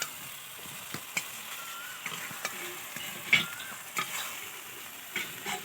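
Fish curry masala for a silver carp curry is stirred in a pan, with a quiet sizzle broken by sharp scrapes and taps of the spoon at irregular intervals; no one speaks.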